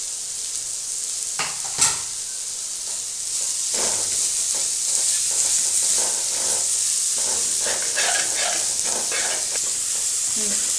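Chopped onions sautéing in a pan for pepper chicken, giving a steady soft sizzle and hiss with occasional stirring scrapes and clinks throughout.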